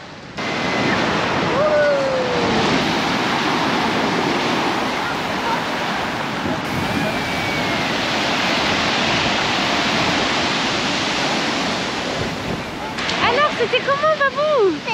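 Ocean surf breaks continuously on a beach in a broad, close wash of noise with gusts of wind buffeting the microphone; near the end, children's voices and shrieks rise over the waves.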